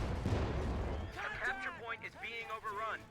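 A tank gun fires in a Company of Heroes 2 match, a loud booming shot up front that quickly fades, with a commentator talking over the battle noise.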